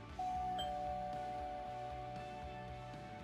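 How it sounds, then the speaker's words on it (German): A doorbell rings in the Roblox Brookhaven video game, one electronic chime followed by a lingering sustained tone and a repeating low pattern, clear and alone with no talking. "Ach, ich glaube, ich muss klingeln."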